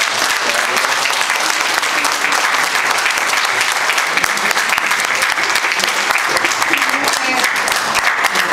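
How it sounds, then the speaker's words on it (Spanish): A large audience at a mental health psychoeducation event delivers loud, continuous applause, steady and dense throughout with faint voices mixed in. "me gustaría que todos le dieran un muy fuerte aplauso a Margarita"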